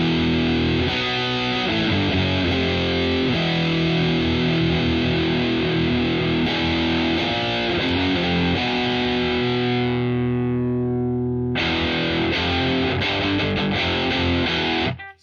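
Electric guitar played through a NUX Fireman distortion pedal with the tightness control turned all the way up, giving thick, sustained distorted chords and notes. The tone rings out and fades, then a fresh loud chord strikes in.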